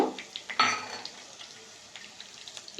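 Fennel and cumin seeds fry in oil in a pan for a chicken curry. Soft, scattered crackles are heard, with one brief, louder sizzling burst near the start, and no talking.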